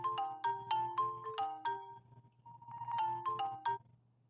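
A melodic phone ringtone for an incoming call, bright chiming notes in a quick repeating phrase that plays twice with a brief pause between, heard alone and moderately quiet.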